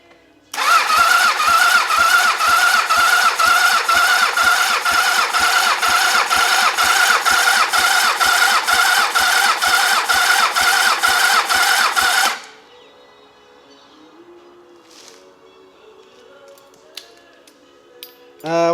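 An old motorcycle engine, a Yamaha XJ 650 or Honda CBX 750, fires up and runs loud and close with the throttle held open, a steady pulsing roar for about twelve seconds before cutting to quiet background noise.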